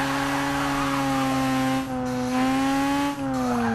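A low-power rotary-engined car screams at steady high revs with a harmonic engine whine, its pitch dipping briefly twice as the clutch is kicked, with tire squeal layered over the engine throughout.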